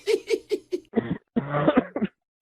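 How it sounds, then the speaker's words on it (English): Four quick, exaggerated coughs in a row, followed by a voice making muffled, theatrical noises; the coughing sounds forced rather than genuine. "Oh, here we go with the fake coughing again."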